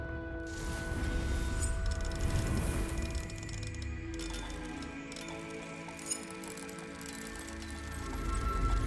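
Alohomora unlocking spell in Hogwarts Legacy working a lock open: a run of mechanical ratcheting clicks and turning-gear ticks, heard close over a continuous bed of game music and ambience, with no talking.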